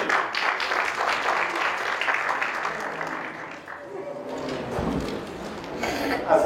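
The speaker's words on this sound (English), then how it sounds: "Let's give them both a round of applause." An audience gives a sustained round of applause at a gathering. The dense clapping gradually thins and fades, and then a voice begins speaking near the end.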